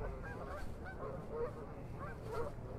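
Seagulls being fed pieces of bread call out in a steady outdoor din, several raspy cries rising over continuous background noise.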